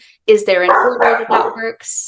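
Household dogs bark in a close, loud burst of several yaps and yips, with a voice talking over them.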